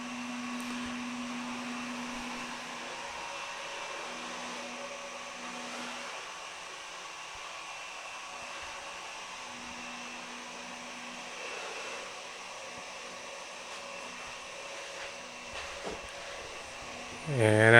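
A Samsung Powerbot R7040 robot vacuum cleaner runs indoors near an entertainment center, giving a steady, fairly quiet whirring hum with a faint tonal whine that holds throughout, ending with a brief louder bump.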